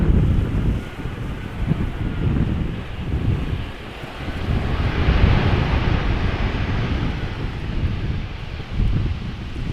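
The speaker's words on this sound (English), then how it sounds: "the wind once again grabbing hold of my camera and blowing it to the right" Strong wind buffets a camera microphone at Amsterdam Schiphol Airport during crosswind arrivals, a loud, continuous low rumble that swells and eases, with a distant aircraft roar rising in the middle.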